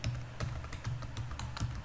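Computer keyboard typing as code is entered: quick, light clicking keystrokes in irregular bursts, close and clear with no talking.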